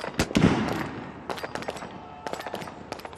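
Shots from a sniper rifle at an outdoor SWAT competition range, several sharp cracks with echoing tails, including a loud close report early and scattered fainter bursts later.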